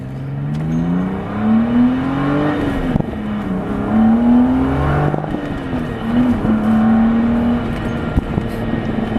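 A supercharged 1998 BMW M3 engine revs up and down repeatedly with a rising supercharger whine, loud and close, with no talking.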